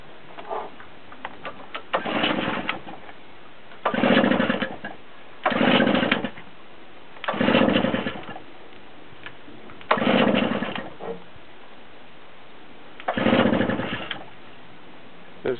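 A petrol engine on a Brightlingsea Osprey boat runs in repeated loud surges of a second or so, dropping back to a steady low idle hum in between, with no talking.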